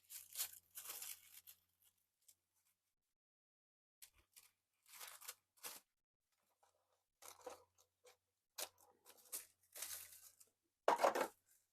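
Crinkled paper being cut to make a collage background, heard as several short, close, crisp bursts of cutting and tearing separated by quiet pauses, with no talking.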